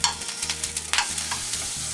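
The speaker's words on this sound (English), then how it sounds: "I'm going to go ahead and add my pork to the pan" Thin pork slices fry in oil in a pan, giving a close, dense sizzle with quick bursts of stirring and scraping.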